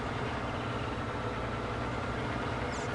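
Steady drone of a tractor engine from a farming video game, a low, even rumble running continuously at constant loudness, close and alone without voices.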